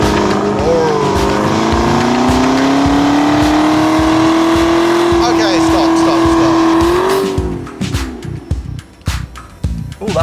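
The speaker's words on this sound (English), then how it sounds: "Hellcat is king of the burnouts" A Dodge Hellcat muscle car doing a burnout, its tires squealing in a loud sustained howl under a roaring engine, then cutting off into idle and chatter as people talk nearby.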